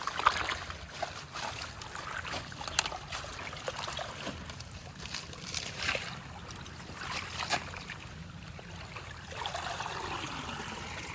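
A boat moves through water in a rural wetland, with soft, continuous sloshing and trickling around the hull and occasional light knocks, fairly faint and steady throughout.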